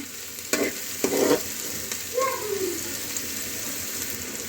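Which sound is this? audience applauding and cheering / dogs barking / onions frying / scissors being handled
onions frying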